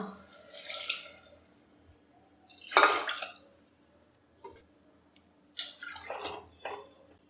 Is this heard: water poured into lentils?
yes